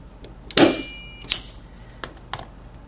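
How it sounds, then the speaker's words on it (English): A punch-down tool seats wires into an RJ11 telephone jack, giving one sharp loud snap followed by several lighter clicks and taps spread over a few seconds, close and without speech. "Now I'm going to cut the other side or punch down the other side."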